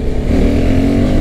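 Single-cylinder motorcycle engine revving up under acceleration, a loud steady near drone filling the whole moment with no pause.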